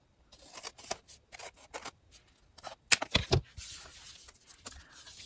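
Scissors snip and trim paper for a handmade folio, a scatter of short crisp cuts close by, with a denser cluster of sharper snips near the middle and quieter rustling between.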